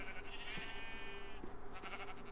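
A sheep in a farming video game bleats a single wavering call that lasts about a second. It sounds fairly close against quiet game ambience, and a few soft clicks from the game follow.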